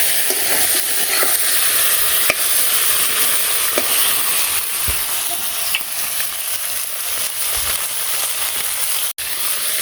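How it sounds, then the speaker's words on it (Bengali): Fish heads frying in a pan, a loud, dense, steady sizzle with occasional stirring clicks and scrapes, close and unbroken. "তো মাছের মাথাগুলো আগে ভেজে নিই।"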